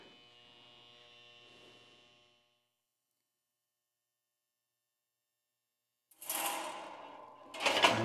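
A spot welder works on the metal body of an MGA II Ghia fastback. A low electrical hum lasts about two seconds, then silence, then two sharp, clattering bursts near the end.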